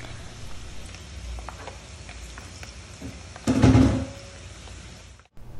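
Almonds and pine nuts fry quietly in hot oil with a soft, steady sizzle, rising into a brief louder crackle midway before settling again.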